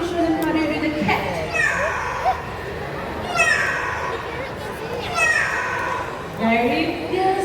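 At Mandai Bird Paradise, a bird mimics a cat with several rising and falling meow-like calls in steady succession, set against constant crowd chatter and children's voices.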